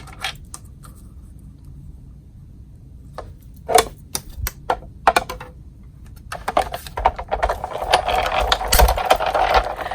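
A die-cutting or paper-crafting machine cutting out a paper greeting, rapid mechanical clattering bursts and whirring that grow busier and louder toward the end.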